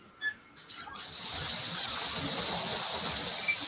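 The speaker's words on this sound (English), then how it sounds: "Is it pouring rain? Is it raining?" Heavy rain pours down during a thunderstorm, building after a second into a loud, steady rushing hiss, with a voice briefly heard at the start.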